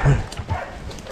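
Hunting dogs bark and yip close by at a caught pig in the dark, a short burst of loud, low barking that is strongest at the start and then breaks into scattered yelps.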